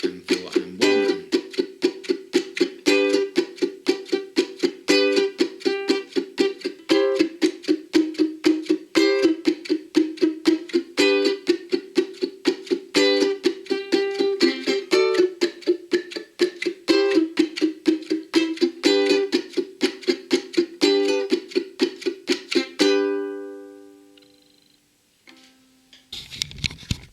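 Ukulele strumming a 12 bar blues with left hand muting, producing a steady run of short, choked percussive strums in even rhythm, close and clear, ending with a few ringing notes that fade out.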